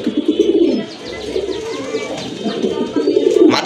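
Several restless pigeons coo repeatedly in a low, rolling murmur, with brief wing flutters and faint chirps, close by and steady throughout.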